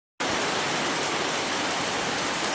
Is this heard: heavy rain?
yes